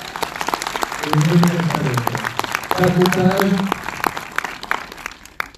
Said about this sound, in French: On peut applaudir pour ça